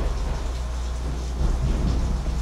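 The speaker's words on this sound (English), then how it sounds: "Did you hear that thunder?" Low, rumbling thunder rolls through a rainy storm, a broad continuous roar that swells slightly toward the end, with no talking.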